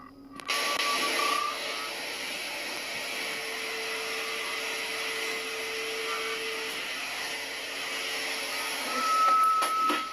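A vacuum cleaner runs steadily in a home, a loud continuous whine with a hum beneath it that holds for the whole stretch and swells briefly near the end, with no talking.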